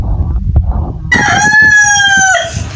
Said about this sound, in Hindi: अभी मुर्गा, मतलब यार बादशाह, बादशाह भाई, अब मुर्गा नहीं कहना।